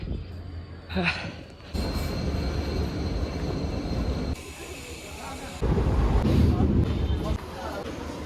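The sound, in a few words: train passing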